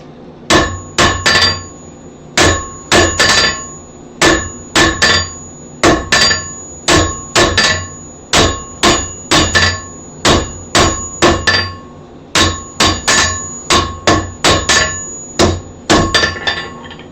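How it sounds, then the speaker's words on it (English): Steel struck by hand with a hammer while forging a wreath hanger: a close, loud series of sharp ringing blows, often in quick pairs or triplets, with brief pauses between groups. "I just go back and hammer them out by hand afterwards."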